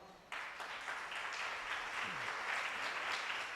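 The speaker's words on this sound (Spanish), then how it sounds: "Denles aplauso al Señor." A church congregation breaks into applause after a brief quiet moment, the clapping starting abruptly and holding steady as a broad, moderately distant crowd sound, with a faint voice briefly audible beneath it.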